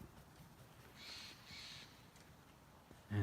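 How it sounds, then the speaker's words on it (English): Crows cawing at a distance in an outdoor spot, two faint, short calls close together over a quiet background, followed by a brief nearby knock. "Crows are hanging out,"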